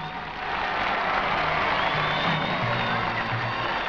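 An airport crowd of thousands welcomes Pope Paul in Sydney with a continuous wash of cheering and applause, loud and diffuse, with a narrator talking over it.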